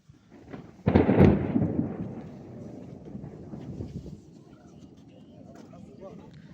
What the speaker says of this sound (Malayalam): ഇടിമിന്നലൊക്കെ തുടങ്ങി.